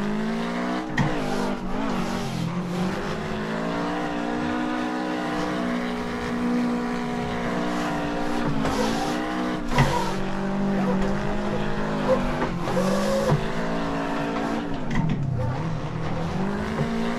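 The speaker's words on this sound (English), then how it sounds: "we'll see if I can make this stock GT86 look like a drift car" A stock Toyota GT86 drifting in the Assetto Corsa racing game, its engine revving constantly with rising and falling pitch through gear shifts and throttle lifts, steady and loud for the whole stretch, mixed with tire squeal.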